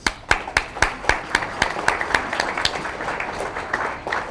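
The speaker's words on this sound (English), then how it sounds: "So please join me in extending a very warm round of applause to all participants." Sharp, evenly spaced claps ring out close by at an awards event, about four per second, with softer scattered clapping from a small audience filling in underneath before it thins toward the end.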